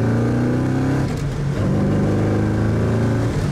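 A 4.6-litre Stage 3 MGB GT with a five-speed gearbox conversion accelerates hard through the gears, its engine note climbing, dropping at a shift, and climbing again, loud and continuous from inside the car.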